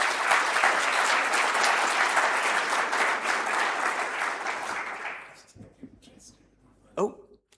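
A conference audience applauds loudly and steadily for about five seconds at a closing plenary, then the clapping fades into a few scattered claps and quiet.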